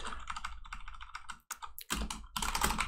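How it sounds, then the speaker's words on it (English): Typing on a computer keyboard while writing HTML, with rapid, close clicking keystrokes in irregular bursts broken by a couple of brief pauses, loud and clear with no talking. "I don't normally have this much of a problem typing unless I'm doing a video"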